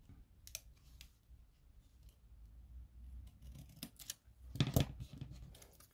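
Scissors snip washi tape while a gift card pouch is being made. The cuts come as a few quiet, crisp clicks and snips, with a louder cluster near the end.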